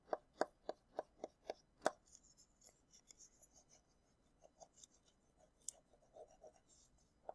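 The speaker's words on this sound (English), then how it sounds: "Might even take something like this, like a rounded, hard plastic part, and this is called burnishing." A rounded hard plastic tool burnishes packing tape onto paper, opening with a run of six sharp, evenly spaced rubbing strokes, then softer, scattered scraping and rustling, close and quiet with no talk.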